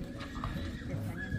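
A horse called Huracán is trained during a small demonstration, giving a short whinny and hoof clip-clops close by over constant background noise, with people talking nearby.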